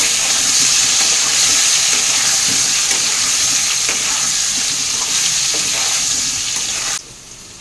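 Food fries in a pan with a loud, continuous sizzle and occasional stirring, until the sizzle drops off abruptly near the end, no talking.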